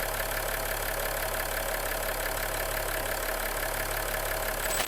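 A VW Touareg 3.0 TDI diesel engine idles steadily with a low, even rumble and faint ticking, continuous and close throughout.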